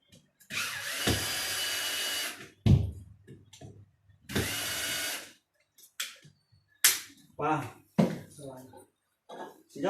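A power drill bores into a wall during an air conditioner installation, with two sustained loud whining bursts followed by scattered clatter and people talking nearby.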